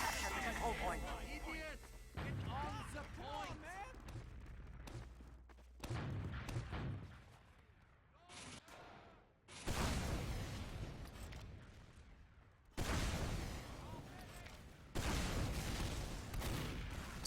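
Team Fortress 2 combat: rockets exploding and guns firing in repeated loud bursts, with booms and crackling fire coming in blocks separated by short quieter gaps, close and dense.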